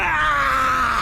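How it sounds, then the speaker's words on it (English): A man screams in agonizing pain in the Tsukihime visual novel, a sustained, loud, strained cry held steadily for about a second with no other sound. "His screams pierce the air."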